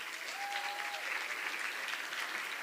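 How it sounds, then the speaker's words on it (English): Audience applause fills a 50th anniversary Volunteer Activist Luncheon: steady, dense clapping from a large crowd that stays even and close throughout, with no voices above it. "Give yourselves a big round of applause."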